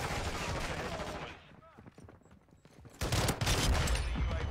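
Video game gun fires rapid bursts, dense and loud at the start, then a quieter gap with faint talk and clicks, and a heavy resumed volley near the end.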